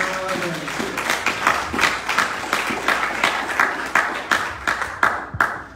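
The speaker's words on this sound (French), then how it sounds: "Est-ce que tu peux acclamer pour le roi de gloire?" A church congregation claps and cheers during a worship service, dense sustained applause with rhythmic clapping peaks, a crowd sound filling the space from start to finish.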